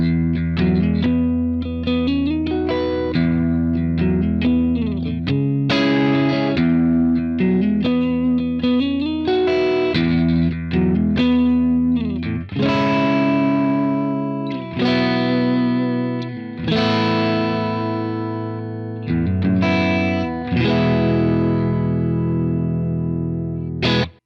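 A Fender Vintera 70s Stratocaster electric guitar on the position 4 pickup plays strummed chords and picked notes with effects, loud and close, with no talk.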